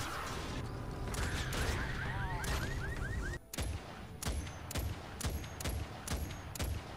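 Basilisk gun fired in Fortnite Save the World, a series of sharp, evenly spaced shots ringing loud and close, with a few mechanical clicks and chirping effects before the firing begins.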